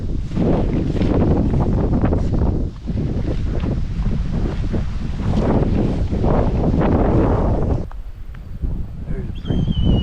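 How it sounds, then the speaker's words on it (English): Strong wind gusting across open country on a hike, a loud continuous roar buffeting the microphone for most of the stretch before dropping to a quieter rush near the end. "Pretty windy today."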